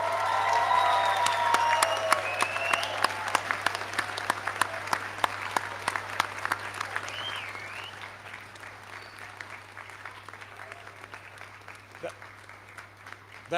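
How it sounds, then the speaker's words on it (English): A graduation ceremony audience claps and cheers, with dense applause and whoops that are loudest early on, then thin and fade toward scattered clapping over a steady hum. "Give them a huge cheer and a round of applause."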